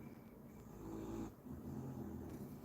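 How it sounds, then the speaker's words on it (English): A dog snores softly indoors in a slow rhythm, with a few drawn-out rasping breaths close to the microphone against a quiet room. "The dog is having a good old snore now."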